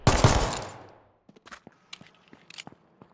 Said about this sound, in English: Like shooting the 44 magnum off.